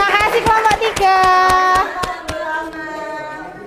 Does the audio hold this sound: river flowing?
no